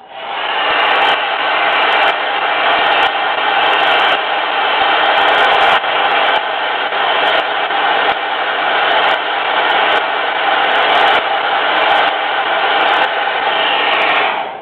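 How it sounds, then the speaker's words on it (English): A hair dryer blows steadily at close range, a loud continuous whoosh running throughout without pause. "Now I'm going to take my dryer."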